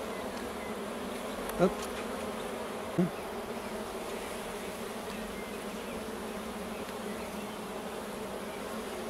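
Honeybees hum steadily around an opened beehive frame during a spring hive inspection, a dense close swarm drone with two brief louder knocks or bumps early on; a short word is spoken once.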